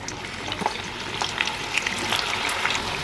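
Pieces of bitter gourd deep frying in hot oil give a soft, steady sizzle with scattered crackles and pops, fairly quiet and with no talking.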